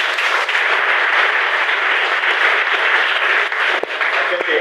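A church congregation applauds in a dense, steady wash of clapping that holds loud and even throughout, with a few sharper claps standing out near the end.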